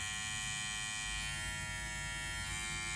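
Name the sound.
electric hair clipper running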